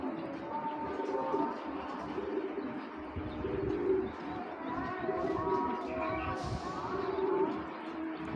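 Racing pigeons of a foreign bloodline coo softly and steadily at close range, with chirps mixed in over a busy loft background; no one speaks.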